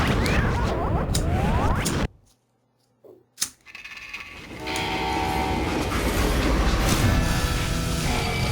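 A train in the video game Call of Juarez: Gunslinger rumbles loudly with rail clatter and a horn, drops suddenly to near silence with a couple of clanks, then the rolling rail noise builds back up.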